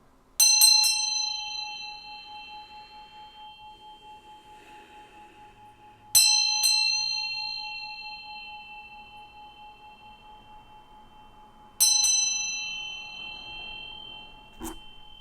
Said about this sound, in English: I'm going to ring this bell and then we'll get into this thing